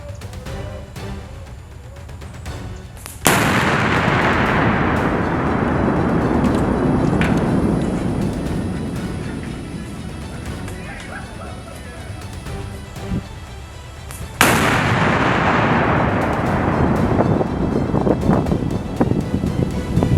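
US soldiers firing artillery outdoors: two heavy booms about eleven seconds apart, each with a long rolling decay, over constant wind buffeting the microphone.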